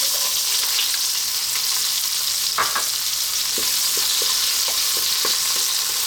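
Onions frying in spiced oil over high heat for a chickpea coconut curry, a steady loud sizzle throughout with a few light clinks of stirring.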